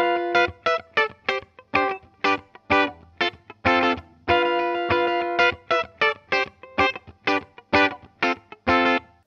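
Distorted electric guitar played through an amplifier for home recording: choppy, rhythmic palm-muted chords in short bursts with a few longer sustained stabs, loud and close with no talking.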